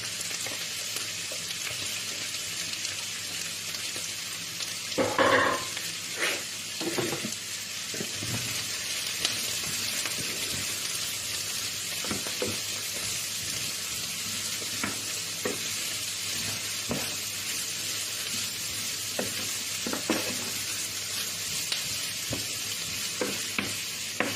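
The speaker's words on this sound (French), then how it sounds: "je vais rajouter mes oignons dans ma petite texture. Et le but, c'est de faire bien dorer mes oignons" Onions fry and brown in a pan for onion soup, giving a steady soft sizzle throughout, with occasional stirring scrapes and knocks, one louder clatter early on, and no voices.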